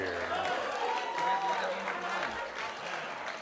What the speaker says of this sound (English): And how about another round of applause for Jan Daly?